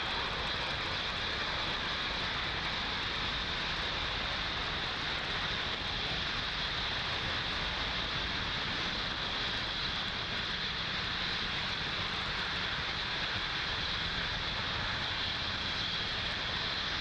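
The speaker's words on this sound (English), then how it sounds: "Falcon 9 has successfully lifted off from Pad 40 at Cape Canaveral" A SpaceX Falcon 9 rocket lifting off from Pad 40 at Cape Canaveral gives a steady, continuous broadband roar that holds evenly loud throughout, with no talk.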